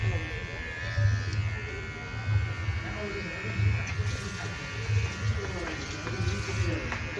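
An electric hair clipper buzzes steadily while cutting a young child's hair at home, its motor hum pulsing slightly as it moves, with people talking and a voice over it.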